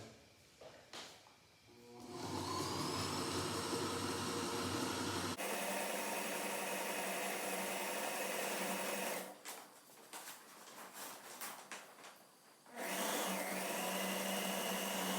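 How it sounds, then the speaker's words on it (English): A sewing machine runs a zigzag stitch through mainsail cloth in close, loud bursts, with a rapid mechanical whir that starts, pauses and starts again. "we're just using a zigzag stitch"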